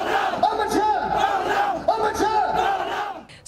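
A large crowd at a protest rally in Shillong against the Citizenship Bill shouts and roars in unison, with repeated rising chant-like bursts filling the scene continuously.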